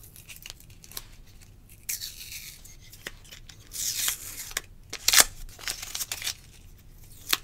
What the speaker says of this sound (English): All right, I can clean all this tape residue off of here too.